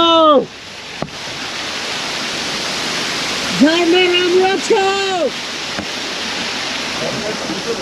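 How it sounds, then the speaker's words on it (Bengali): A mountain waterfall beside a steep drop on the road to Manang, Nepal roars as a steady broad rush, with a brief voice at the start and some drawn-out vocal sounds partway through. "ঝর্ণা"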